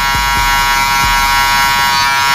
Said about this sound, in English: after the shaver, you wanna go back in there with your trimmer and use your corners